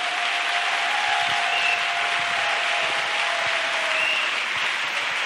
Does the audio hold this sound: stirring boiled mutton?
no